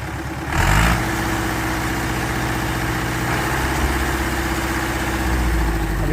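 A tractor engine idles with a steady low rumble and vibration after a brief surge at the start, running continuously and close with no talk over it.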